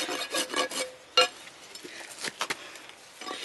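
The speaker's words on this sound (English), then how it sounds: "I can rasp down from the front like that" A rasp files a horse's hoof during a trim, producing short scraping strokes up close, irregular and fairly quiet, with one brief sharper clink partway through.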